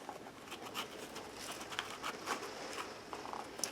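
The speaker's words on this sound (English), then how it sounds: "ooh, it's raining" Light rain patters steadily, scattered soft drops tapping close by with a quiet hiss underneath and no voices.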